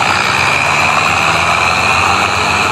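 A small Massey tractor strains under load while pulling a large 18-foot trolley, its engine a steady, loud, continuous drone that holds throughout without a break.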